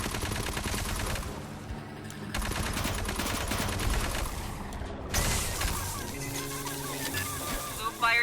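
Gunfire in the Aliens: Fireteam Elite multiplayer campaign, sustained automatic bursts layered with game music and effects, loud and continuous, with shifts in the mix partway through.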